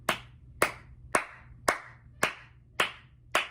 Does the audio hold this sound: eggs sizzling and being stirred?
no